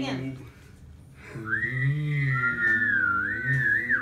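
A high, wavering toy whistle sounds up close with a steady pitched tone, while voices are heard around it.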